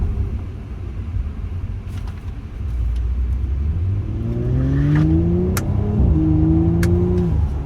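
A 2019 Audi S5 Sportback accelerating, engine rumble rising steadily in pitch through the gears from inside the cabin, loud and continuous with no talk.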